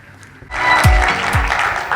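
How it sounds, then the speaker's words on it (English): An audience applauds after a speaker from the Islamic Fashion and Design Council is announced, the clapping swelling from near silence into a dense, steady wash that carries on to the end. "With a big round of applause."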